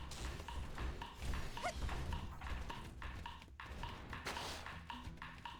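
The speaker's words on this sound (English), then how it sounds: "I've yet to see any actual creatures clopping when the sound's happening" Clopping hooflike footsteps from an unseen enemy inside a cave in the game Xenoblade Chronicles X, a quick irregular series of soft knocks at moderate distance over low rumbling game ambience.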